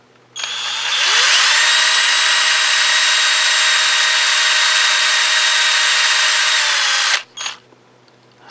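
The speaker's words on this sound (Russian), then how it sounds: "сверлим отверстие сначала тоненьким сверлом" A power drill with a thin drill bit whines steadily for about seven seconds as it bores a hole, close and loud, then stops with a couple of short bursts at the end.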